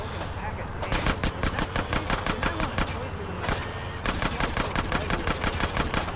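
Gunfire in Grand Theft Auto: San Andreas – Definitive Edition rattles in rapid automatic bursts, with a brief pause before the shooting resumes, loud and continuous.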